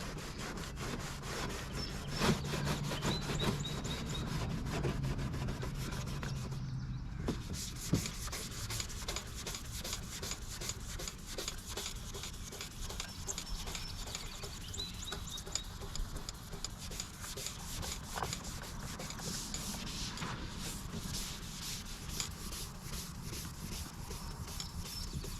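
Porsche Cayenne bodywork is scuffed by hand before painting, a continuous rasping rub with rapid back-and-forth strokes, close and steady, with a short pause partway through.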